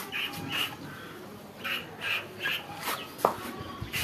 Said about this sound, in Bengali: হাঁসগুলো, এখনই আসবে, এখনই খাওয়া শুরু করবে।